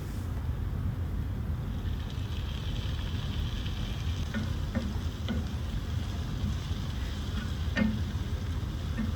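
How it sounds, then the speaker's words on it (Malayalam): Onions and finely chopped tomato sauté in a pan for a beef roast, giving a steady, even sizzle with occasional light scrapes and taps of stirring, no talk over it. "നമുക്ക് നല്ലോണം ഒന്ന് വഴറ്റിയെടുക്കാം"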